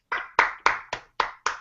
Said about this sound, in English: Round of applause from subscribers to Team Burn Infinity.